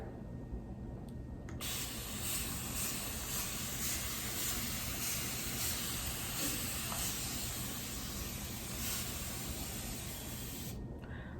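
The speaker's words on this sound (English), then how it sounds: "my handy dandy spray bottle of water" A spray bottle misting water in a long continuous hiss, close by, starting abruptly and cutting off near the end.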